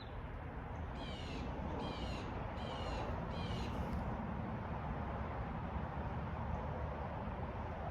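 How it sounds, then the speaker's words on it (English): A loud bird calls from a tree just overhead, four harsh rasping caws in quick succession early on, over steady outdoor background noise with no speech. "that's a loud-ass bird"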